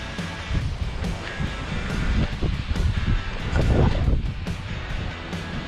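A mountain waterfall near Red Mountain Pass in snowy weather sends up a steady, full roar of rushing water that holds at an even loudness throughout, with faint wind buffeting mixed in.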